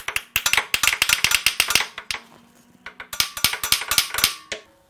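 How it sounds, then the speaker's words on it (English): Worn 3/8 extension being tapped onto a transmission plug on a Lotus Esprit V8, rapid metallic clicking taps in two quick bursts with a short pause between, close and crisp with no talk. "I'm going to take a worn out 3/8 extension and I'm going to tap it on there"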